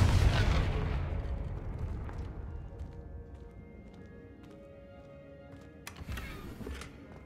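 A Confringo blasting curse explosion in Hogwarts Legacy, a loud booming burst at the start that decays into a long rumbling tail, then a sharp smaller crack near the end.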